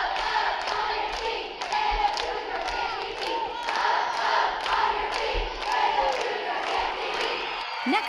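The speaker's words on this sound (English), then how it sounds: "bringing on a Cougar cheer that brought everyone to their feet" A school assembly crowd shouts a rhythmic Cougar cheer, repeated bursts of many voices pulsing together with thumps underneath, loud and filling the room throughout.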